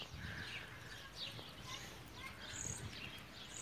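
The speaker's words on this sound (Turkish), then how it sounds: "Kuş sesleri eşliğinde arılar vızıltıyor" Birds chirp and sing in the distance, high and intermittent, over a steady outdoor hum of buzzing bees with low rustling in a garden.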